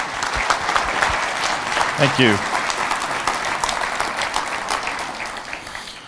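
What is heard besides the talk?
audience applause for keynote speaker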